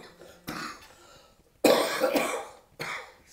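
Several rough coughs, a couple of softer ones early and then a loud, close burst of hacking coughs followed by one more cough, no talking.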